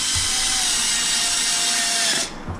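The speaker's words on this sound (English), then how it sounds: "I'm gonna take my drill" A power drill runs steadily for about two seconds, driving screws into an RC Kraton chassis, then cuts off abruptly with a brief rattle.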